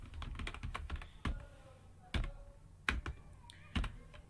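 Someone types a password on a computer keyboard, a quiet run of quick close key taps with a few heavier strokes spaced between them.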